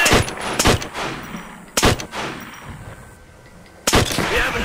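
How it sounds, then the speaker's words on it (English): Explosions and gunfire from enemy artillery in Call of Duty: World at War crack out in loud, sharp bursts, with three or four heavy blasts spaced a second or more apart over a steady rumble of battle. "Enemy artillery!"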